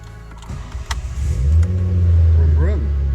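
A car engine revving up, starting with a few rough sputters and then a loud, close, steady rising roar with a brief wobble near the end, while people speak over it.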